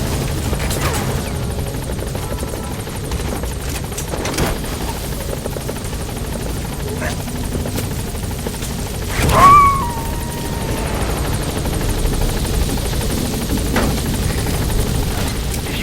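A helicopter at a landing zone in the video game Metal Gear Solid V: The Phantom Pain keeps up a loud, steady rotor drone through the whole stretch, with a brief crash or thump near the middle.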